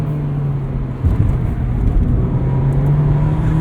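A 2025 Mazda MX-5 Miata Club ND3 engine revs while driving on a real road, a steady loud drone with a rising surge partway through, heard from inside the car with no talk.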